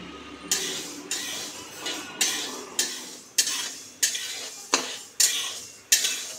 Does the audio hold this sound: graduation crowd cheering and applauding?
no